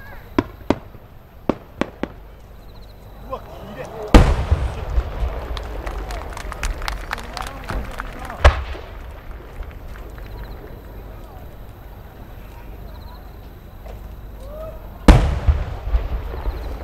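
Fireworks burst in sharp, booming explosions, with several big blasts and many smaller crackling pops scattered through, over a steady crowd murmur, at the 2023 Omagari fireworks competition in Japan, a Nomura Hanabi display.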